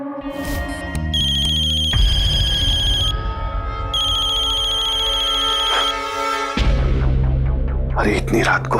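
A telephone ringtone plays at night in an indoor domestic scene from a Hindi crime TV serial, a repeating electronic melodic ring lasting several seconds, loud and close, with a brief whispered voice around it.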